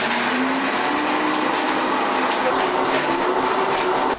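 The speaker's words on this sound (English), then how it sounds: "Crank up the engine and get this rolling and give it a good blend." A blender whirs steadily at high speed, chopping sun-dried tomatoes and herbs into a thick paste; the loud, even motor drone runs throughout and cuts off abruptly at the very end.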